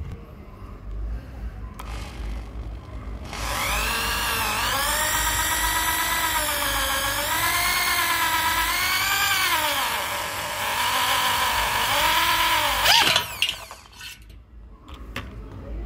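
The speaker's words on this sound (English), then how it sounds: "If you drill too fast and don't apply enough downward force, the bit will heat up and reduce its lifespan, and the metal won't drill properly." A power drill bores into metal at home, its motor whining loudly and wavering in pitch as the bit bites, then cutting off abruptly near the end.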